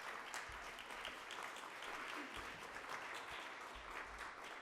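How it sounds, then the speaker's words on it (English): Audience at a town hall gives presenters faint, steady applause, a soft wash of clapping heard from a distance that continues evenly for several seconds. "Let's give a big round of applause for our presenters."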